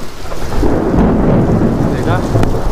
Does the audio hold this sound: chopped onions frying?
no